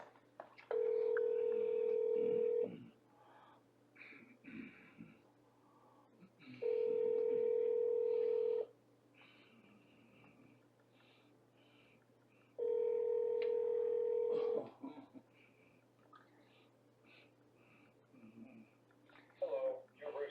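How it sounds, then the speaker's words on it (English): A transferred phone call rings through to a VA case manager's line as three evenly spaced ringback tones about six seconds apart. Faint background noise fills the gaps. "Wait while I transfer your call."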